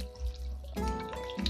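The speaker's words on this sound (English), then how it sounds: "I think I need to add in another bottle of water here" Bottled water is poured into a pan of cooking chicken, giving a steady splashing trickle that shifts partway through as the flow changes.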